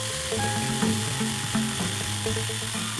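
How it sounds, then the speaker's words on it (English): A drill press whines loudly and steadily, its pitch dipping and rising as a Forstner bit bores into wood in short repeated pushes. "I'll go over on the drill press with 2 Forstner holes"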